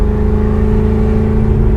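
A custom 1968 Shelby Mustang GT500 restomod idles loud and close with exhaust cutouts open, a deep steady rumble with a throbbing lope throughout.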